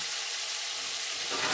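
Cubes of elephant foot yam fry in a covered pan for a vegetarian chorchori, giving a steady soft sizzle that swells louder near the end, with no talking.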